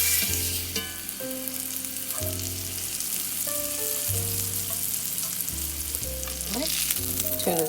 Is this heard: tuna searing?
yes